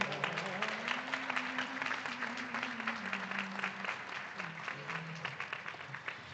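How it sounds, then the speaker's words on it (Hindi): Loud, steady applause from an audience at a spiritual gathering in Surat, Gujarat, sustained throughout at even intensity with a low tonal hum beneath. "जोरदार तालियों से."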